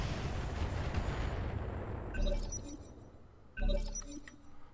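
Mech weapons firing in the Roguetech video game: two loud, crashing explosive bursts over a rumbling background, about a second and a half apart.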